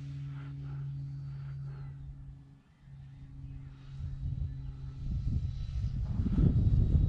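A Timber EVO radio-controlled model airplane flies over a park, its electric motor producing a steady humming drone that fades briefly and then swells louder and rougher as it passes near, with wind noise.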